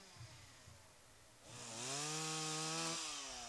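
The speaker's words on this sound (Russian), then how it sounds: "Если бы не рев бензопилы снаружи" A gasoline chainsaw outside a house at a rural apiary, cutting up a fallen old willow tree; faint low idling gives way to a loud revving roar that holds steady, then its pitch drops near the end.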